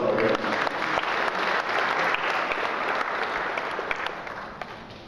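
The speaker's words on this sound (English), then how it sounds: "Please, a round of applause for them." Congregation applauding at a requiem mass, a steady sustained round of clapping from a crowd filling the space, fading slightly toward the end.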